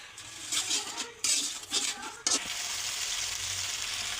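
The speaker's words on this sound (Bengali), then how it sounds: "তো এগুলো দিয়ে আগে মশলাটা ভালো করে কষিয়ে নেব" Onions frying with ginger-garlic paste, cumin paste and spices hiss steadily in a pan, broken by spatula stirring and scraping strokes near the start, then settling into a continuous quiet sizzle.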